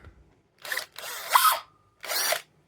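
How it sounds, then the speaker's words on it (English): A drill press boring a hole right through a wooden block in a home workshop, with three short, loud whirring bursts separated by brief silences. "put this in a drill press and drill a hole right through the middle of that"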